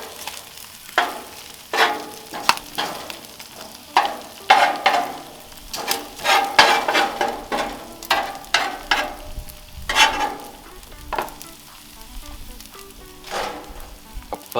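Chopped pork and cheese sizzle on a Red Monument four-burner grill, steady frying hiss broken by repeated scraping and stirring strokes of a spatula, close up and with no talk.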